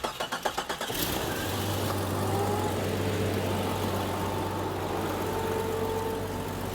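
A car engine that has just been repaired cranks with a rapid rhythmic starter whir for about a second, catches, and settles into a steady loud idle hum close by, with no voices.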